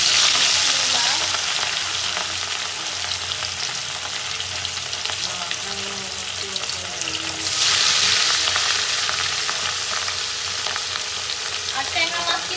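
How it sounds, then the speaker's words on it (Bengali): Fish marinated with turmeric and salt frying in hot oil, a loud, dense, continuous hiss and crackle that swells again near the middle, close up with no voices. "এখন হচ্ছে ভেজে নিব।"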